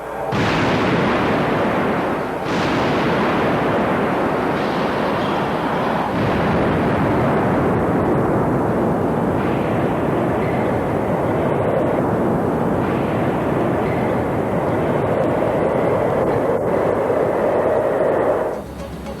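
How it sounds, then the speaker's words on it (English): Boeing 777 wings fracture during a structural load test in a hangar, with a sustained loud roaring crash and sharp bangs near the start, followed by heavy continuous rumbling and debris noise. "Finally, at 24 feet above horizontal, the right wing fails. Then, 20 seconds later, the left."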